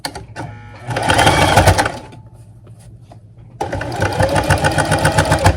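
Sewing machine running a back stitch on fabric, a loud steady whirring burst, a brief quieter pause with light handling, then a second sustained run close up.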